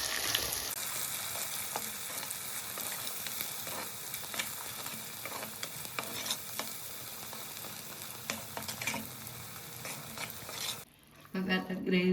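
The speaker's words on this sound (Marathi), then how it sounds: "वाटण चांगलं परतून घेऊया." Masala paste for a Konkan surmai fish curry sizzles in a pan under steady stirring, with frequent scraping and clicking of the spoon close up, then a brief pause and a sharper burst near the end.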